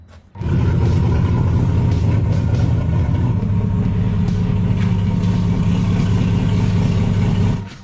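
A Chevrolet Malibu engine starts and runs steadily as the car backs into a driveway, a loud, close, low rumbling hum holding constant before cutting off at the end.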